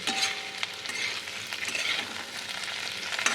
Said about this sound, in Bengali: পেঁয়াজটা ভাজা হচ্ছে, কপিটাও ভাজা হয়ে যাবে